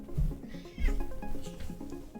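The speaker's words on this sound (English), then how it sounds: "my cat's been like crowing at me this entire time" A house cat meowing for food or attention, two or three close, fairly loud cries in a row, with no one speaking.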